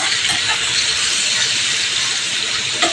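Chicken fries in oil and butter, giving a loud, dense, continuous sizzle with a slight flare near the end.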